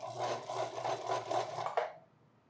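A sewing machine stitches a wide zigzag at the bottom of a buttonhole, its needle pulsing in a steady fast rhythm, close and clear, before stopping abruptly.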